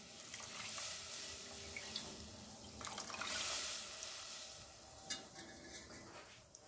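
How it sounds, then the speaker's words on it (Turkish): Chicken stock for a chicken trotter soup is poured through a strainer into a cooking pot, giving a steady close stream of liquid splashing with brief louder gushes and no talking. "tavuk suyumuzu süzgeç yardımıyla tenceremize boşaltıyoruz."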